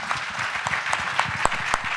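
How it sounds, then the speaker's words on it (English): Conference audience at an advanced manufacturing round-table event applauding, a steady wash of clapping with a few sharper claps standing out, moderately near. "Let's give them a round of applause."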